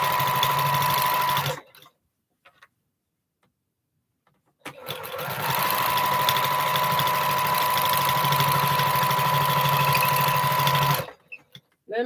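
A sewing machine stitching postage stamp quilt pieces runs in two loud, steady bursts, a short run first, then a few seconds of silence, then a longer continuous whirring stretch.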